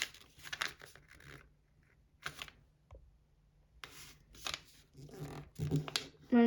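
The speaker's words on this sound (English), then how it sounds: "I'm gonna fold only these two flaps over." Paper for an origami fighter jet crinkles and creases in short, quiet bursts of rustling, with pauses between folds and soft handling noises close by.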